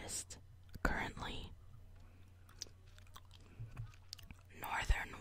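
Soft, close gum chewing with moist smacks and clicks in a quiet ASMR setting, irregular and intimate, alongside faint whispering.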